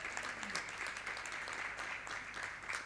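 Steady applause from an audience at an architecture networking event in a Porcelanosa showroom in Huelva, a continuous dense wash of clapping at moderate level without a clear break.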